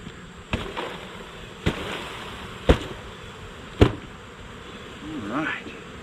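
A swarm of bees being caught and boxed keeps up a steady, dense buzz, broken by four sharp knocks or thumps spaced about a second apart and a brief rising whistle near the end.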